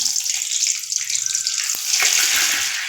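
Hissing, crackling sizzle of mustard seeds popping in hot oil, continuous and close, with a few sharp pops.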